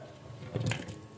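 Tomatoes drop into a pot of cooking mutton for namkeen gosht, a brief soft wet plop and sizzle near the middle of a quiet, steady kitchen background.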